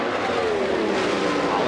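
IndyCar race cars at the 1999 Indianapolis 500, a steady high engine whine from the pack racing on the oval, continuous and loud with a faint pitch sweep, under crowd-like noise.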